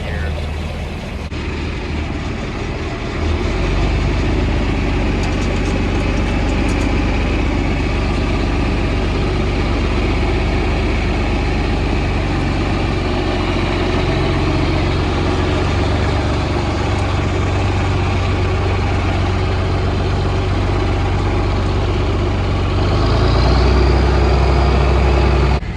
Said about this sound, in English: This tractor, despite being absolutely ugly, starts way easier than the 72.